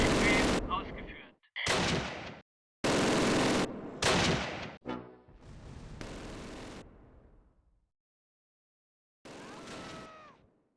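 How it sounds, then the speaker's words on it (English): Gunfire in the World War II strategy video game Close Combat Wacht am Rhein: loud bursts of rifle and machine-gun fire with heavy artillery-like blasts, separated by short silences, ending in a final burst. "Taking fire!"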